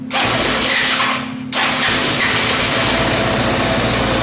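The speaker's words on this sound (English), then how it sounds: "I'm going to start this bike and we're going to adjust the screw right here" A 250cc Apollo SL250-2 scooter engine cranks briefly, catches and settles into a steady, loud, buzzing idle close by, with no talking.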